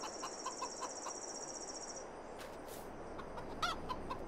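Chickens cluck in Farming Simulator 22, a flock of 200 birds giving faint scattered clucks over a soft ambient bed, with a high chirping trill early on.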